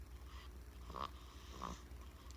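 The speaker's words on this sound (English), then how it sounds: "snoring just like her daddy" A sleeping baby girl snoring softly, two gentle, evenly spaced snores, close but very faint against a low background hum.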